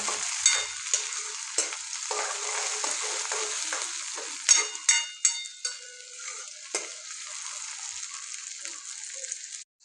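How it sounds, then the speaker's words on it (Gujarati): Tomatoes sizzle steadily in a hot pan while a spoon stirs and scrapes through them in irregular bursts. "હવે અંદર આપણે ટામેટાં નાખી દઈએ હવે બરોબર આપણે મિક્સ કરી લઈએ"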